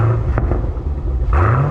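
A car engine revving, a loud close rumbling growl with a quick rising rev toward the end, heard alone without talk.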